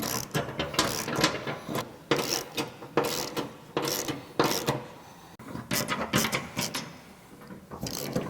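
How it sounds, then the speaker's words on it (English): Ratchet wrench with a 19 mm socket tightening black belly pan skid plate bolts on a diesel truck, a series of quick clicking bursts in uneven groups, close and fairly quiet. "All these black bolts around the belly pan system are tightened with a 19 millimeter socket."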